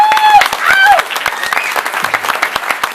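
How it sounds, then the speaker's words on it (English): A loud round of audience applause at a Country Radio Hall of Fame event, many sharp claps with whoops and cheering voices on top early on, continuing steadily. "Round of applause for Mr. Johnson"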